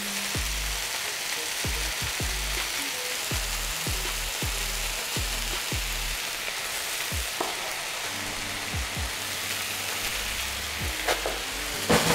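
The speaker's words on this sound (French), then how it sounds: "On fait caraméliser les oignons et on les cuit jusqu'à ce qu'ils soient fondants." Onions caramelizing in a pan over medium heat, a steady sizzle and frying hiss with repeated scraping stir strokes at a regular pace, close and fairly loud, no voices.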